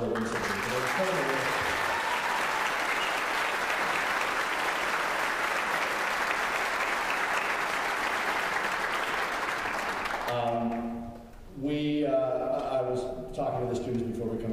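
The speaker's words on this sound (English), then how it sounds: "another round of applause for both the junior and the Alberta Wind Symphony" A concert hall audience at a wind symphony gala gives sustained, dense applause for about ten seconds before it fades out and a voice begins speaking, with music-like tonal sounds following.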